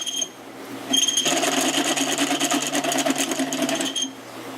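A drill press boring a 3/4 inch hole whines steadily for about three seconds after a brief start-up, close and fairly loud, with no talking.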